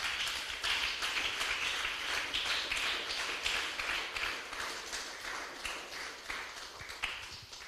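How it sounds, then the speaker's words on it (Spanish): A church congregation claps loudly together in praise, a dense, sustained burst of many hands filling the room evenly for several seconds, with no voices heard over it. "Den un fuerte aplauso al Señor, hermano."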